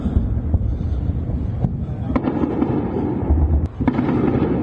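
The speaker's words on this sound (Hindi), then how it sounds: "लगातार यहां पर मिसाइल अटैक किया जा रहा है, तेहरान पर मिसाइल से हमला हो रहा है।" Missile explosions during an attack on Tehran boom as several distant, muffled blasts, followed by sharp cracks. Wind rumble and buffeting on the microphone run throughout.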